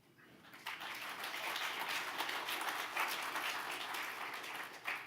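Audience applause at a club focus group meeting, a steady wash of many hands clapping that swells after a quiet start and holds for about five seconds.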